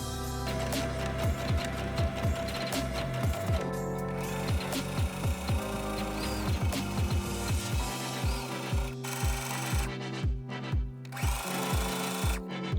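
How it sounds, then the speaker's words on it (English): A sewing machine stitches folded fabric strips for an off-shoulder bell sleeve top, its rapid needle thumps running in steady bursts with brief pauses, close and loud. "I folded these strips and sewed them."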